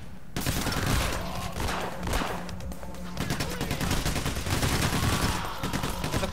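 Gunfire in the video game PayDay: The Heist, rapid overlapping bursts of automatic shots in a dense, loud barrage that rolls on continuously with only brief dips.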